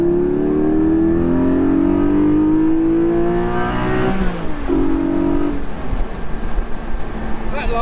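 A Porsche 911 GT3 or 718 Spyder sports car engine and exhaust rev hard, pitch climbing steadily under load, then a quick drop and a short rise at a gear change, loud and close with a continuous roar.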